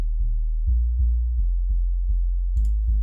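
A synth sub bass in a house music production plays a steady series of deep, rounded low notes in an even rhythm, loud and alone with no voices.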